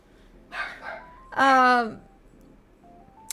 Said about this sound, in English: doggy barking time.